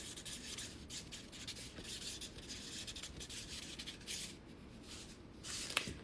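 A pen scratches softly across paper while signing a pre-ordered book, a faint, continuous rubbing of strokes with small pauses, heard alone.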